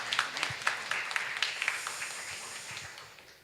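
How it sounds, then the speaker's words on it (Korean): A conference audience gives a short round of applause, with scattered distinct claps that thin out and fade over a few seconds at moderate distance. "여러분 박수 부탁드리겠습니다."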